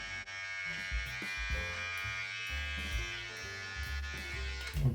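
Braun Beard Trimmer 7 buzzing steadily through a beard, a close electric hum whose pitch wavers slightly as the blade moves across the hair, with no voices.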